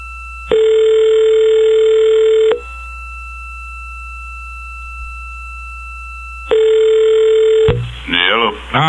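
A telephone ringback tone on a call, two long steady electronic rings separated by a silent gap, loud and close, followed by a voice starting to speak at the end.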